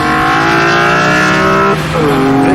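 A BMW E46 M3 CSL roars loudly on Isle of Man roads, its engine note holding steady then dropping sharply as it shifts or lifts near the end.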